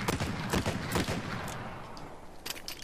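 Heavy cannon-like gun fired in Uncharted 4, a rapid string of loud close blasts in the first second or so, then sparser bursts and rumbling echo toward the end.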